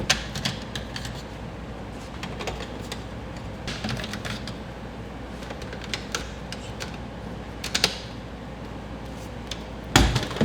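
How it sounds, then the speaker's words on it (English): Screws being backed out of the dash radio surround in a 1995-2001 Honda Civic, giving quiet scattered clicks and taps with a few sharper knocks and a louder clunk near the end, no talking. "Take some screws out."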